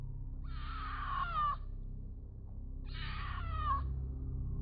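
Two drawn-out, raspy screams from a mountain lion in a recording, spaced a couple of seconds apart over a low background rumble.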